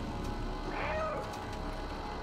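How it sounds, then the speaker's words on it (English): A cat meows once in the video game Stray, a single clear rising-then-falling call in the middle of a soft, steady game background. "if I meow, it says, uh-huh"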